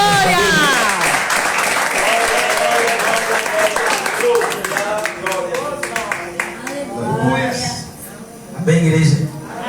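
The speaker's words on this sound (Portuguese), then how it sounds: "Dê uma salva de palmas para Jesus." Congregation applause during a Portuguese-language church service, scattered claps running beneath loud, continuous preaching and excited voices for nearly ten seconds.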